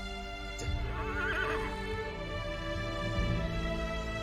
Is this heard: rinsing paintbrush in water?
no